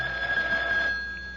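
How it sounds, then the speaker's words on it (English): A telephone rings in a shop as a radio drama sound effect, giving a single steady electronic tone that holds for about a second and then fades, alone with no voices. "Now, today, you're sitting in your shop, and the phone rings."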